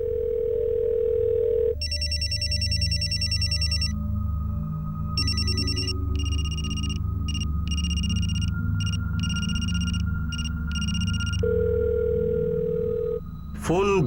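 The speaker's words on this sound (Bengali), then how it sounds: "ফোন বেজেই যাচ্ছে, কেউ তো তুলছে না।" A telephone rings on and on unanswered in a Bengali crime drama scene, its electronic ring repeating in bursts with short gaps over a steady tone and low background hum.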